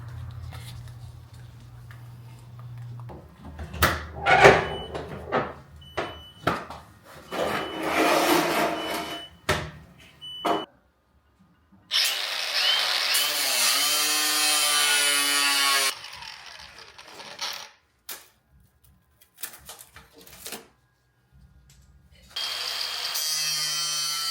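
Cutting through a fiberglass body kit for a Nissan 240SX, heard as two loud bursts of harsh, rasping cutting noise that stop and start, after earlier clattering handling knocks and thuds.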